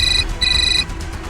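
A telephone rings with two short electronic tonal bursts, loud and close, separated by a brief pause.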